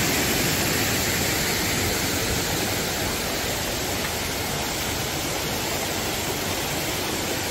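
Jungle water rushes across a road near a waterfall on Koh Chang, a dense, constant roar of flowing water, loud and unbroken, with no voices.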